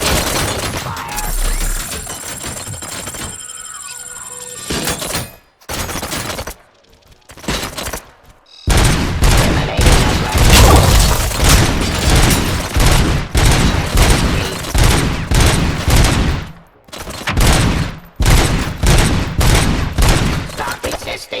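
Gunfire from RoboCop: Rogue City, loud sustained bursts of automatic fire with dense repeated shots, broken by a few brief pauses and one longer gap.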